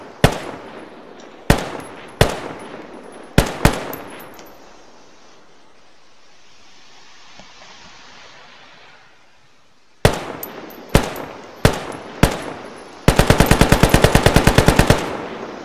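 AKM 7.62x39mm rifle fire in a modded video game: loud single shots spaced out with ringing tails, a quiet pause, more single shots, then a fast full-auto burst.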